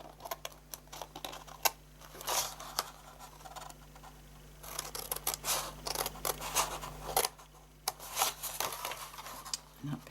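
Scissors snip cardstock for a small cookie box in a series of short, close, crisp cuts spread through the clip, over faint background hum.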